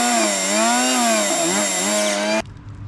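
A Milwaukee M18 battery chainsaw runs with a steady, loud electric whine that wavers slightly in pitch, then cuts off abruptly near the end, leaving faint background noise.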